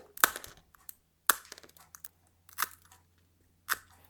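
Glass is cut with a SeaBell MAX Pro mosaic cutter, giving sharp crisp snaps and crunches at irregular intervals, with faint small clicks in between, close and fairly quiet.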